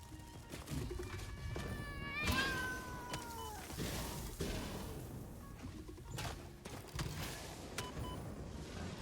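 Several cats meow and caterwaul in the game Satisfactory, with repeated rising and falling cries close up over a busy background of game noise.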